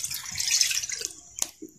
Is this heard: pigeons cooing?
no